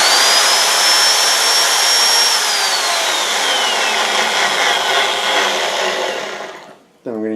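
A power drill clamped to a table and used as a homemade lathe, spinning a pipe against a nailed-down wooden block, screams loudly and continuously with a rising, then falling whine before winding down and cutting off near the end.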